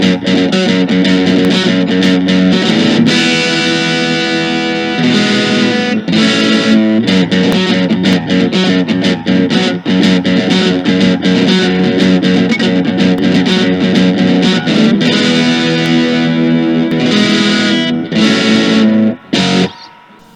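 Heavily distorted electric guitar with a classic rock tone, played loud and continuous with chords and riffs, close and alone with no talking.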